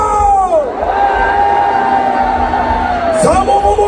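At an anti-impeachment rally in Gwangju, a big outdoor crowd cheers and yells in a loud, steady roar lasting throughout, with individual shouts rising out of the mass.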